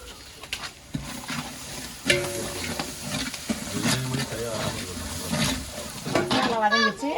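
Green chillies sautéing in a pan, a soft continuous sizzle with intermittent stirring clatter, fairly faint, with a voice speaking at times.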